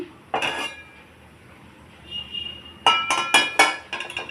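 A metal kadai clanks as it is set down and oil goes in before frying raw banana pieces: one clink, a quiet pause, then several sharp metallic knocks close by.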